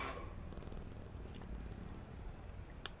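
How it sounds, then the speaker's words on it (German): A cat purrs softly and steadily in the video game FNAF: Into the Pit, a low continuous rumble heard alone at low volume, with a couple of faint clicks near the end. "Nette Katze."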